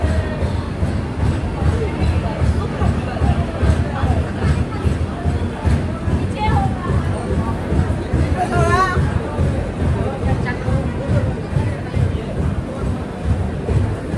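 A dense crowd of passengers murmurs and chatters on the platform at Tiruppur railway station as the Ernakulam to Tatanagar express pulls in, a steady, close babble of many voices filling the whole stretch.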